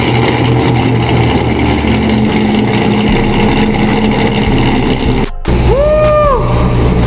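A C7 Corvette with an aFe intake, a loud rumbling engine idling, a brief gap, then a sharp starter crank and rising rev flare as it fires up close by.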